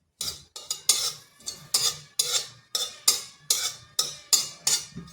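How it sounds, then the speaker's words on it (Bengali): Cumin seeds stirred with a spatula in a dry wok with no oil give about ten crisp, rhythmic scraping strokes, close and fairly loud, with no talking. "জিরাটা হালকা একটু নেড়ে নেব"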